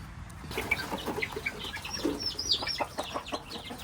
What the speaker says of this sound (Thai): แม่พาไปดูไก่ เราจะไปดูไก่ไข่กันนะคะ